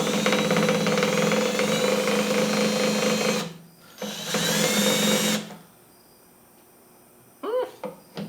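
A power drill with a star bit whirs loudly in two bursts, stopping briefly between them, then falls quiet before a few short clicks and rattles.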